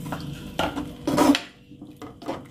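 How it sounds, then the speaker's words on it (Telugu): A spoon scrapes and clinks against a pan as tamarind pulp is stirred into a brinjal (stuffed eggplant) masala curry, in several short close bursts of scraping with brief pauses between them. "ఇవన్నీ మిక్స్ చేసుకున్న తర్వాత చింతపండు గుజ్జు వేసుకొని మిక్స్ చేసుకోవాలి."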